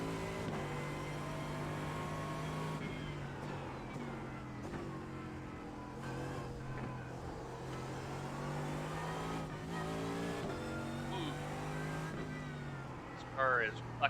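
GT3 race car engine in a racing video game holding a steady, droning tone with slight pitch shifts across gear and throttle changes, under continuous talk from a commentator.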